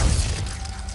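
The Glacius freezing spell from Hogwarts Legacy is cast in one short, crackling burst, loudest at the start, with a low thump under an icy shattering texture that quickly fades, with no voices.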